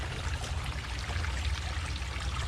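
Water trickles along a small two-foot stream in a garden pond kit, a faint steady babble close by with continuous low rumble beneath.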